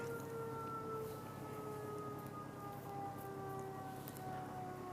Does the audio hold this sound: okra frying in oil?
no